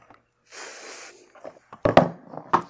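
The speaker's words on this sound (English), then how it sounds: "I'm actually going to put a little spray on this" Short hiss of adhesive spray onto fabric for an in-the-hoop embroidered towel topper, one burst lasting about half a second, followed by soft handling clicks and taps nearby.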